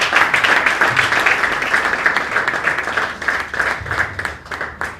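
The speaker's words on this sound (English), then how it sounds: "We give them a very big hand clap." Loud, close applause from a bootcamp audience honouring mentors, a dense sustained burst of many hands that swells in waves and tapers slightly toward the end.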